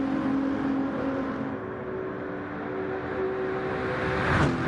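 Race cars at the Nurburgring 24 Hour race, including a Lexus and a Nissan GT-R, roar past on the circuit, one engine note swelling and dopplering by near the end over a continuous background drone.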